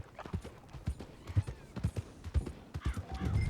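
Horse hooves clip-clop at an unhurried walking rhythm in Red Dead Redemption 2, soft and fairly faint, with a few light snorts mixed in.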